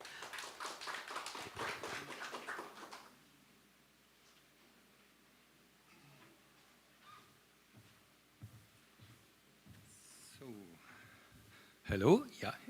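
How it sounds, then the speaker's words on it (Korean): An audience at a teacher education forum gives a short burst of applause welcoming a keynote speaker, dense clapping for about three seconds before it dies away into quiet room noise and a voice speaking. "큰 박수로 환영을 해주시면 좋겠습니다"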